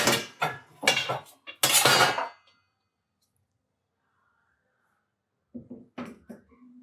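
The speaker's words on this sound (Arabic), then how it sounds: "نجيب الطاسة بتاعتنا" A cooking pan is handled in a home kitchen with a few sharp metallic clanks and knocks in quick succession, then a quiet pause and a couple more soft clatters near the end.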